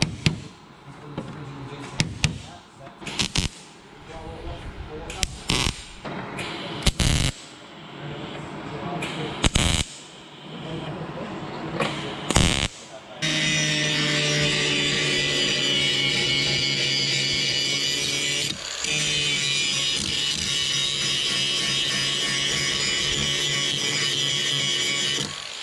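An angle grinder works the metal of a rusty Toyota FJ40 Land Cruiser door. Short, scraping bursts and knocks come first, then a loud, continuous grinding whine runs for over ten seconds with one brief dip.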